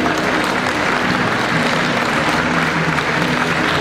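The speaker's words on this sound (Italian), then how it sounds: "Un applauso a chi deve abbandonare il ring." Loud, steady audience applause fills the ring at an international dog show in Milan, dense continuous clapping from a large crowd throughout.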